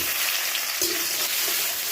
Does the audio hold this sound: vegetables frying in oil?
yes